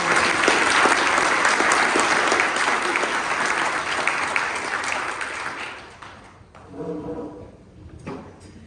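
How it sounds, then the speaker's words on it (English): Audience applause for the organizing committee at a fire company installation ceremony, a loud sustained burst of many hands clapping that fades out after about six seconds, followed by a few scattered sounds and faint murmuring. "But a big round of applause for the committee that put this on."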